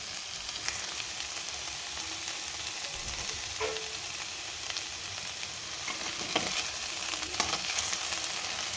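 Okra with onion and garlic sizzles steadily in a pan, a constant close hiss broken by occasional scraping stirs and light clinks.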